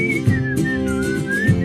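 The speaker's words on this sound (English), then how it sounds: "like how to whistle" A person whistles a short wavering tune, clear and close, with a few soft breathy sounds and low background rumble beneath it.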